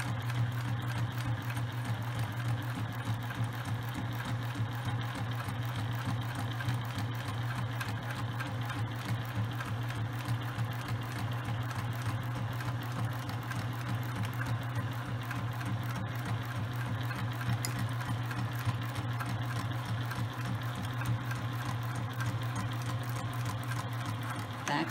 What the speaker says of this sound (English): and continue sewing.